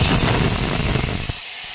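Green chillies hit hot oil while tempering a chicken curry gravy, a loud, harsh hissing crackle of spitting oil up close that drops off sharply after about a second to a quieter fizz.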